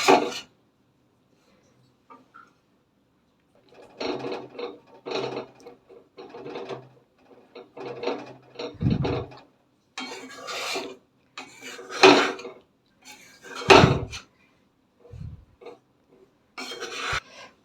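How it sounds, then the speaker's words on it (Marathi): Ragi flour roasting in ghee is stirred in a pan to break up lumps, giving repeated rasping scrapes in short bursts, some louder knocks of the spoon against the pan, with pauses between strokes. "तूप टाकल्यानंतर पिठाच्या गुठळ्या होतात आणि असं हलवून हलवूनच त्या गुटळ्या काढायच्या आहेत मोडायच्या आहेत"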